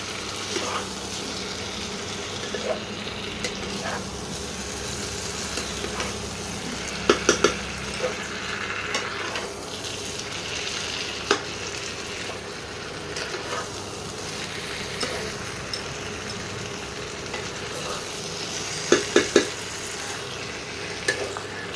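Continuous sizzling of chicken and spices being sautéed in a pan for a Bengali green chicken dish, with occasional clinks and scrapes of a spatula against metal, close and steady without speech.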